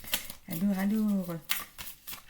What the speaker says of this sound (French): Je vais tirer ici une carte de l'oracle 22.